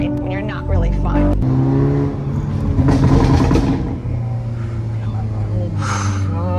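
Hyundai Elantra N fitted with a catless downpipe passing outside, a loud raspy exhaust that rises and falls as it revs by, with people talking and exclaiming over it.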